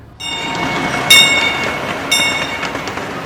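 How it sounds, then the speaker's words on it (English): A steam train at Knoebels Grove amusement park rumbles along its rails with a steady rolling roar, and high metallic squeals twice rise over the noise. "the Knoebels Grove steam train that went through the other side of the park, through some tunnels"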